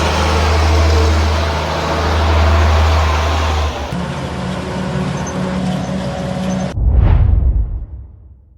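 A Ford Ranger pickup engine with a squeak fault idles with a steady low hum, then a rougher running tone, ending in a brief louder burst that fades; no clear squeak stands out.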